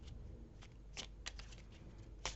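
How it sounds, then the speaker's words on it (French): Belline oracle cards are shuffled by hand, giving soft, quiet riffling and brief crisp card snaps at irregular intervals, close by and faint. "je vais faire un tirage complémentaire avec le Béline."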